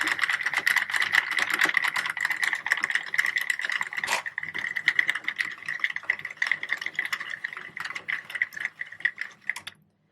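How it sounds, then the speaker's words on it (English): A Sentro knitting machine is cranked by hand to free a scrap-yarn scarf, giving a steady, busy stream of fine plastic clicks and ratcheting that runs for about ten seconds with one sharper knock midway. "hold on to our waste yarn and crank until it pops off"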